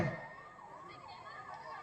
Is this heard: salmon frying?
no